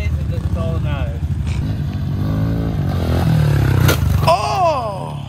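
A dirt bike engine idling and revving in an urban setting, steady and fairly close under continuous talk, with rising and falling pitch swells.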